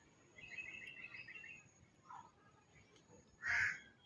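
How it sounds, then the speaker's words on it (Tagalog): A few harsh caws from a crow in a mango tree, faint and somewhat distant, with one louder call near the end over quiet outdoor background. "may uwak pa sa taas mga idol"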